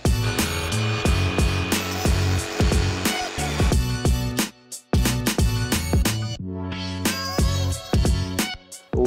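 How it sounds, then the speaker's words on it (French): Jigsaw cutting through wood while building a folding wooden chair, a loud, rapid buzzing that runs in repeated bursts with short pauses between cuts, close up and without talk. "On met un coup de perceuse et puis sauteuse directe."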